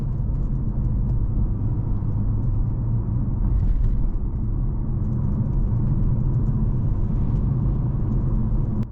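Steady low rumble inside the cabin of a 2011 Porsche Panamera S with a V8 while driving, a muted, even drone of engine and road noise with no talking.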